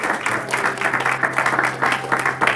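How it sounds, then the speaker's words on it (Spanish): A church congregation applauds for a worship leader, a steady wash of many hands clapping with a rhythmic pulse throughout, moderately loud and close, with no talking over it. "¿Alguien le puede dar ese aplauso al Señor?"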